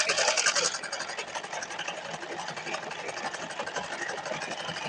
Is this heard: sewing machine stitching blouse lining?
yes